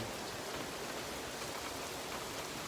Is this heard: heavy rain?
yes